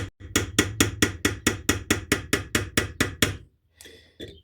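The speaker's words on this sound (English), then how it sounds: "there I'm going to pull dent with the hammer" About fourteen sharp metallic hammer strikes pulling a dent in a camp stove, in a steady, quick rhythm, close and loud, followed by a pause and a couple of lighter scraping taps.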